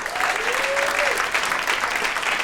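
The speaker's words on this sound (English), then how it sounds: "So you guys start applauding for our next performer" Audience applauding a performer coming on stage at a storytelling event, continuous full clapping throughout, with a brief voice or whoop rising briefly early on.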